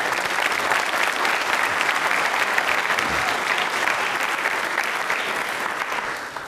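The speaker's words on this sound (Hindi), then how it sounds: "तालियां बजाओ रे" Students and guests at a school quiz show on consumerism break into loud, sustained applause, a dense crowd of hands clapping steadily for several seconds before easing slightly at the end.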